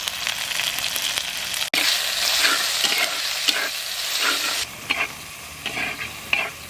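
Spice paste with mutton, ginger, garlic and turmeric stir-fried in a clay pot, a steady loud sizzle broken by scraping stirs, with one sharp knock partway through and softer bubbling frying toward the end.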